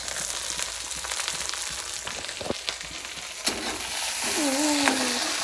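Chopped onion and capsicum sizzle and fry in a hot pan in a home kitchen, a steady close crackle with a few stirring scrapes and a brief whistle-like tone near the end.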